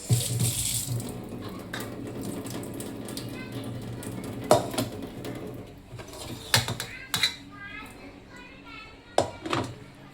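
Raw prawns being washed under a running kitchen tap: a continuous splash of water broken by irregular clatters and knocks of the prawns and bowl, some sharp and close.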